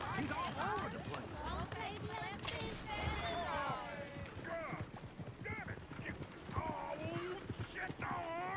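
In the Red Dead Redemption video game, horses gallop pulling a coach, a steady clip-clop of hooves running under almost constant shouted talk, with a brief whinny mixed in.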